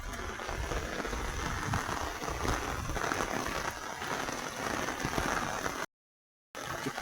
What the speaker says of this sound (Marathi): नुसता चालूच पाऊस आहे